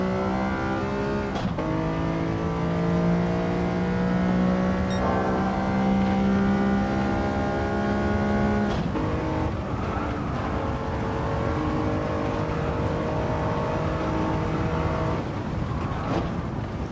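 Engine note of a car lapping a circuit in a racing video game, rising and falling steadily through gear changes and throttle lifts, loud and continuous with no talking.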